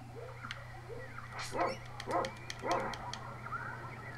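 A small dog character in the Secret of Evermore video game lets out three yappy barks in a row, fairly quiet, over a steady electronic hum and game sounds.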